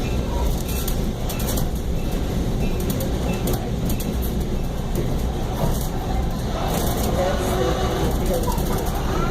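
A passenger train rolls steadily along the rails while passing an Amtrak train, giving a continuous loud rumble and clatter from on board, with faint voices in the background.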